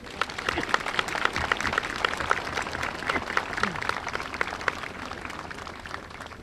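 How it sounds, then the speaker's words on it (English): An audience at an Honor Flight event gives another round of applause for youth participants: dense, lively clapping with sharp individual claps standing out, steady throughout. "can we give them another round of applause?"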